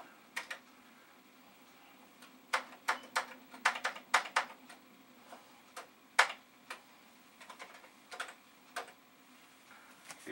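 Keys clacking on a slightly dirty Commodore VIC-20 keyboard, irregular bursts of sharp taps with short pauses between, close and fairly quiet, no talking.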